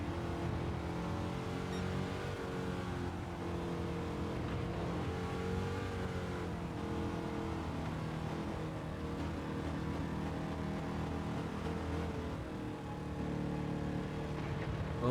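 Corvette C2 '63 Le Mans race car in Gran Turismo 7, engine droning steadily with throttle blips on a drying wet track, loud and continuous throughout.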